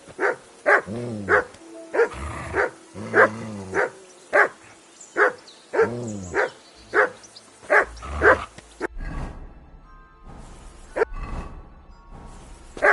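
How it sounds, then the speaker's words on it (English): A dog barks repeatedly in a steady rhythm, sharp close barks coming about once a second, with some barks sounding more distant near the end. "Whistle at that mutt of yours to stop barking!"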